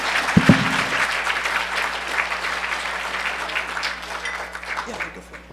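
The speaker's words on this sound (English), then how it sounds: "Give him a round of applause, everybody." An audience at a hacker conference talk applauding a speaker: a dense, close burst of clapping that tapers off over several seconds, with a brief voice near the start.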